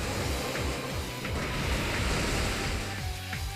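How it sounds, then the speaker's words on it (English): A steady, rushing water surge for the Waterfall attack in Pokémon Omega Ruby/Alpha Sapphire, a continuous roaring wash like crashing surf that holds at an even level throughout, with no talking. "So I'm just gonna hit him with Waterfall."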